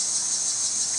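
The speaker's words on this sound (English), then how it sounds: "And I hear the cicadas in the trees above us." Cicadas in the trees overhead give a steady, dense high-pitched drone, loud and unbroken from start to end with no talk over it.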